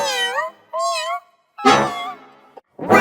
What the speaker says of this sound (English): What sound does a cat make? Meow, meow, meow.